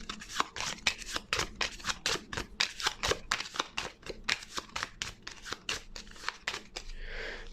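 Playing cards riffled and shuffled in a quick run of crisp, rattling bursts during a Gloomhaven: Jaws of the Lion board game, one card then slid off to a discard pile, close and fairly quiet.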